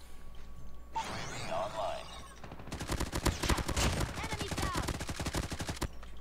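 A Damascus AMAX rifle in Call of Duty Mobile fires a long, fast string of automatic shots at close range, following a short burst of other in-game noise.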